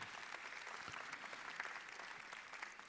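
Audience at a forum of mayors on schools gives a faint, distant round of steady applause, an even patter of many hands lasting a few seconds without speech.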